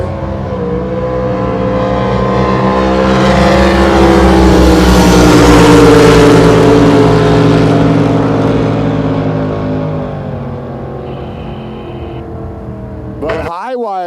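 Drag racing boats at an NJBA season opener, elimination day, roar past in a loud, rising then fading engine run lasting many seconds, ending abruptly.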